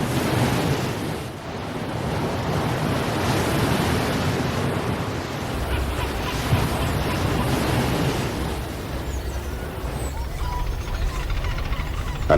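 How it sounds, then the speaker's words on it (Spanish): Waves crash and surge against coastal rocks, their sound gathered and amplified by an acoustic sculpture in a seaside park in Gijón; a steady, loud, rushing roar with broad wash and wind buffeting, no voices. "puede oír el sonido amplificado del batir de las olas contra las rocas"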